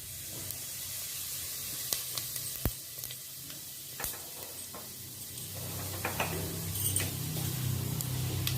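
Cinnamon and fennel seeds hit hot oil in a pan, a continuous hissing sizzle with scattered pops and crackles that builds louder and denser toward the end.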